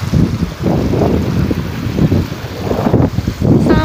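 Strong wind buffets the microphone beside Khukush Lake, a trout lake in the mountains, with loud low rumbling gusts that rise and fall continuously and no voices.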